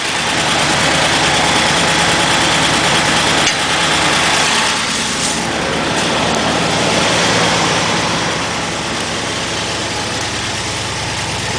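A Scout vehicle engine idles steadily and loudly up close, a continuous broadband rumble with no one speaking.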